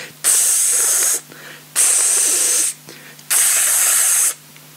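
Three long bursts of aerosol bug spray from a can, each about a second, hissing loudly with short pauses between them.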